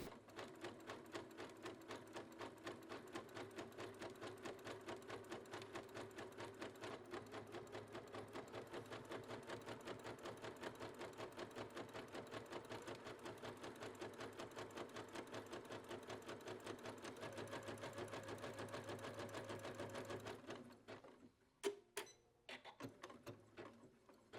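A sewing machine stitches fold-over elastic onto underwear in a long, fast, even mechanical whir of rapid needle strokes, then stops, followed by a few sharp handling clicks; no voices.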